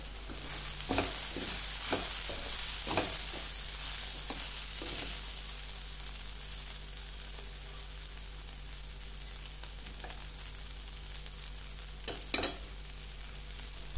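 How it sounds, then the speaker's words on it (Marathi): Spiced okra (bhindi) stir-frying in an uncovered pan, a steady sizzle with sharp scraping stir strokes clustered early on, then a quieter continuous fry with a couple of clacks near the end. "मसाले व्यवस्थित भेंडीमध्ये मिक्स करून घ्यायचे आहेत आणि आता झाकण न ठेवता भाजी शिजवून घ्यायची आहे"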